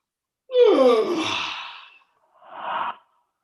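A single close yawn, voiced and falling in pitch over about a second and a half, then a brief breathy exhale after a short pause, with no talk around it.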